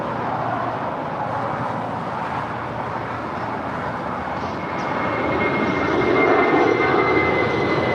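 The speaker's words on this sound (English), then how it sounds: "Spirit 471 departing to Dallas Fort Worth. It's a 12-year-old Airbus A320" A 12-year-old Spirit Airlines Airbus A320 departs LAX for Dallas Fort Worth. Its engine roar is steady and broadband, holding loud throughout and swelling slightly toward the end as the jet climbs away, with no voices over it.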